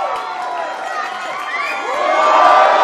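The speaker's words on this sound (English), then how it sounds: "He needs a little encouragement from the crowd." A game-show studio audience cheers and shouts to encourage a contestant at the wheel, a loud, dense crowd roar with whoops that swells toward the end.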